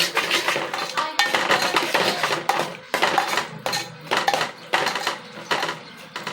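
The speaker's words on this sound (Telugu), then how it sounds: "ఇప్పుడు కారం వేసుకోవాలి ఇలా కలుపుకోవాలి" A spoon stirs chili powder through a pot while cooking Mysore red lentil dal, giving a steady run of scraping, clattering metal strokes in repeated bursts, close and fairly loud.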